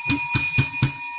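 A bright metallic bell is struck four times in an even, quick rhythm, each ring loud and close with a shimmering tone that lingers after the last strike.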